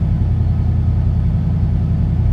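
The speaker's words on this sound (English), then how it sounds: "But the engine seems to have settled down right now." A Ford F-150 truck engine runs at a steady idle, a continuous low rumble that holds even and close throughout with no voices over it.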